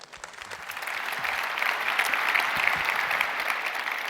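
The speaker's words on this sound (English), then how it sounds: "Please give them a huge warm welcome with an applause." Audience applause welcoming two speakers onto the stage at a security conference talk, a dense wash of many hands clapping that swells slightly after the first half second and stays steady, fairly close and unbroken.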